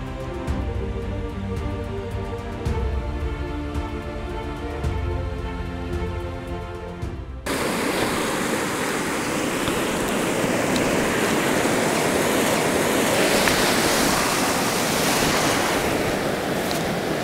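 Water pouring over a river weir at Graiguenamanagh, Co. Kilkenny, Ireland, a broad steady roar of rushing water that fills the scene, loud and continuous with no voices.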